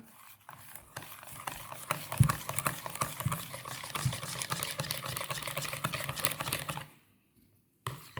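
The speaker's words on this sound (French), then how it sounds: "on penche un peu le bol pour bien, justement, fouetter les grelots" Whisk beating crêpe batter in a tilted bowl to break up lumps: a fast, rhythmic clatter of wire against the bowl, close and fairly loud, that stops abruptly near the end.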